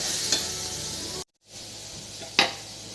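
Sautéed radish stirred into frying onion and spices in a pan, steady sizzle with scraping stir strokes, a brief break in the middle, and another sharp scrape near the end.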